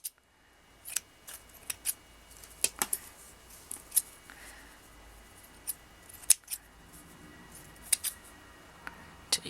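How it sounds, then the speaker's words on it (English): Scissors cutting micro-macrame bracelet threads one at a time, a string of crisp, close snips spaced irregularly over a quiet background. "And we just need to cut these threads. So just cut them one by one."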